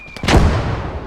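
A flak cannon in the war game Call to Arms: Gate of Hell fires a single loud, close blast that booms and then trails off into a long rumbling decay.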